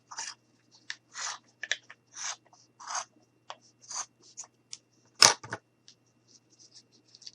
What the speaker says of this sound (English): I'm going to take my scissors and I'm just going to cut